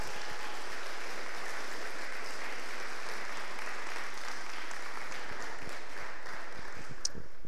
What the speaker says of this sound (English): If we could give them a round of applause.